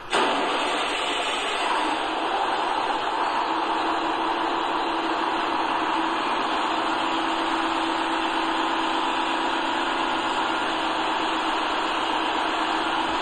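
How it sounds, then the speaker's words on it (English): A vehicle engine idles steadily after being started during a fuel water and oil separator filter change, a constant mid-pitched hum and whir that holds evenly for the whole stretch with no talking. "Start the engine and idle for 1 minute."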